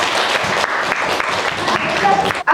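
Classroom applause during a lesson. A dense burst of clapping from a group of students, loud and close, ends abruptly after about two and a half seconds.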